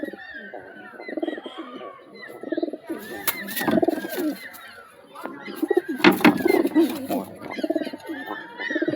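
Pigeons cooing at a rooftop loft, repeated low throaty coos close by, with wing flaps and a few faint voices in the background.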